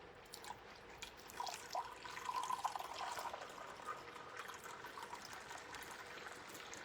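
Coffee poured from a Chemex into diner mugs, a faint trickling stream of liquid with light clinks rising in the middle, heard softly against quiet room noise and no speech.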